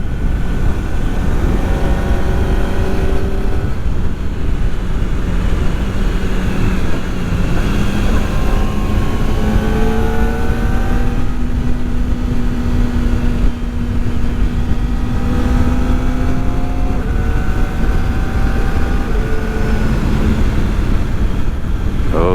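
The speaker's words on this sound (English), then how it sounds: "It does have ram air. I think that gives some of the engine sound too. You can really hear the intake noise." Kawasaki ZX-4RR small four-cylinder, four-valve motorcycle engine with ram-air intake, a steady close drone whose pitch climbs and dips as the revs change, with intake noise and no talking.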